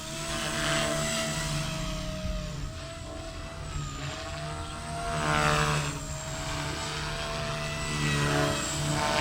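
Blade Fusion 180 radio-controlled helicopter rotor spinning up to high head speed outdoors in hot sun, a steady loud whine and buzz with rising harmonic pitch that swells and eases continuously, no talking.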